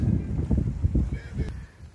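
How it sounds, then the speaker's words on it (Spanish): Poultry on a quiet rural coastal property in Uruguay with no electricity or running water, heard as a burst of honking, clucking calls repeating close by for about two seconds, with no talk over them. "Ah, tenemos gallinas también."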